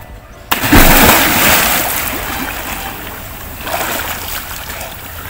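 A person jumping into water during a swimming lesson, landing with one loud, close splash followed by churning, sloshing water that gradually settles, with a second smaller surge of splashing later.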